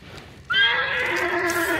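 A horse in the video game Hunt: Showdown gives a single loud, shrill whinny that wavers and trails off, over a soft background hum.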